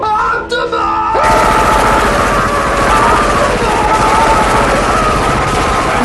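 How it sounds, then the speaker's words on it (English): Gunfire and explosions from a parody Transformers demo reel, a sudden blast giving way to a dense, loud barrage of rapid shots and booms mixed with shouting and music. "You start firing randomly while shouting."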